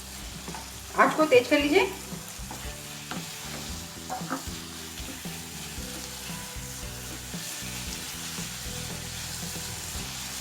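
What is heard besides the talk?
lauki kalakand mixture stirred and roasted in ghee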